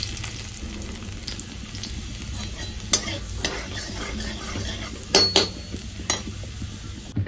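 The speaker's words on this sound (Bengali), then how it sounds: "তার মধ্যে দিয়ে দিচ্ছি কালো জিরে ফোড়ন আর দিচ্ছি রসুন কুচিটা। এটা একটু হালকা ভাজবো" Nigella seeds and chopped garlic fry lightly in hot oil, giving a continuous crackling sizzle up close, broken by sharp clinks and scrapes of a utensil stirring in the pan.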